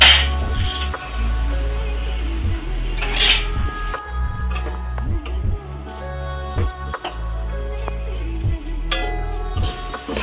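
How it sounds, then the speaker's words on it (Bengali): Spices such as turmeric, chilli and cumin powder being stirred and fried in a pan while making dimer chop, with repeated close metallic scrapes and clinks of a spoon against the pan over a low frying hiss. "ভালো করে মশলাটা কষিয়ে নেব।"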